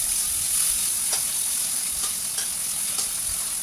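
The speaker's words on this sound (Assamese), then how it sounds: "এয়া বিলাহীখিনি আৰু পিঁয়াজখিনি লাৰি আছোঁ" Tomatoes and onions sizzle steadily in a pan as a spoon stirs them, with a constant bright frying hiss and a few soft scraping strokes, close and moderately loud, and no talking.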